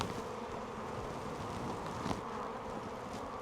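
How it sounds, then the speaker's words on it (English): A honeybee hive in heavy, agitated activity: a dense, continuous buzz of many bees, loud and steady throughout, with no talk. "You could just hear them buzzing away."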